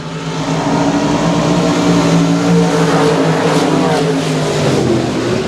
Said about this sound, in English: As the B99 of Ben Leedy back on the loud pedal, we're back underway.